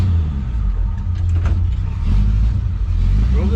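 A 1967 Chevrolet C10 longbed pickup drives around a yard, its engine running steadily with a low rumble and a brief rise in revs, close and loud with no talk.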